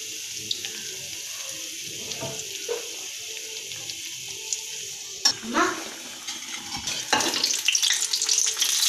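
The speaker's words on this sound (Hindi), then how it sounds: "हल्की आंच पे ये फ्राई हो रहा है।" Chicken vegetable doughnuts frying in oil over low heat, a quiet bubbling sizzle with occasional clinks that grows into a louder, brighter hiss near the end.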